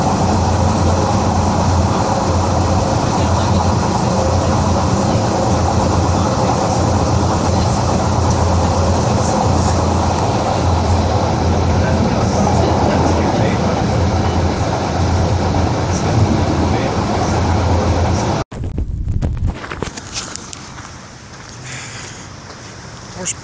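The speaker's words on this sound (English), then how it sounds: "Time to hop the subway, and I'll be rolling in right when training starts." A subway train ride, loud and continuous, with dense rumbling rail and wagon noise filling most of the stretch, then a sudden drop to a quieter, shifting interior ambience near the end.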